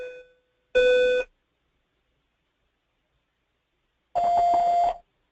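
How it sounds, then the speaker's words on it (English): An electronic school bell sounds the end of the school day in two loud, steady tones of about half a second each, separated by a few seconds of silence, with no talk. "we're going to hear a bell as well"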